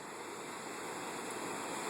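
Rushing rapids at Reversing Falls in Saint John, New Brunswick, where the incoming tide forces the river back, make a steady, even broadband roar of churning water, faint and distant, with no voices.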